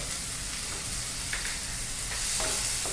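Onion and tomato frying in a pan for a Marathi tender chickpea-leaf bhaji, a dense continuous sizzle with a few faint scrapes of stirring, close and steady with no talk.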